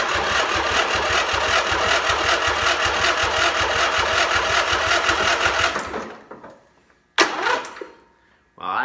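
A Craftsman DLT 3000 lawn tractor engine cranks in a loud, rapid, steady churn for about six seconds without catching, then stops. A short second burst of cranking follows after a pause.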